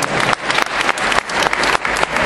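An audience applauds in a dense, steady burst of many hands for about two seconds, with brief dips in intensity but no pause.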